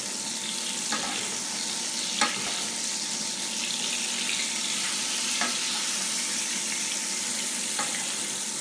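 Duck breast (magret) sizzles steadily in its own rendered fat as it is basted, a continuous close frying hiss with a few soft spoon clicks scattered through.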